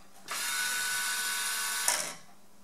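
Motorized turret of a Mitutoyo HV 112 hardness tester turning, a steady mechanical whir lasting about a second and a half, ending with a small clunk as it stops; close and fairly quiet.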